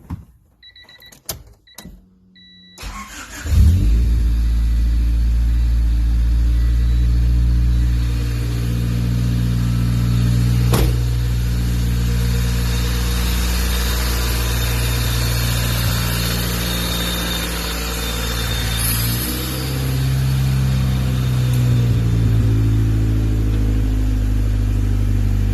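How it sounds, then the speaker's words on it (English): A Honda Civic EG with a VTEC motor starts after a few short clicks and settles into a loud, close idle, its engine note rising and falling with occasional revs throughout. "I'm going to insert a video here of it running."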